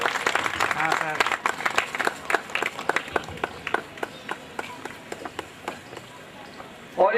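Scattered clapping from a gathering, sharp individual claps fading to a sparse, uneven patter, with voices murmuring beneath.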